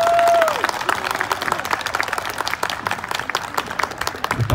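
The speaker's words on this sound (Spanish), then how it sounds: "¡Fuerte el aplauso para Rancho 34!" Spectators at a rancho tournament in Plaza Dos Hermanos, Kilgore, applaud Rancho 34 with a burst of brisk, crisp hand claps that swells after an opening shout and keeps going, close and lively.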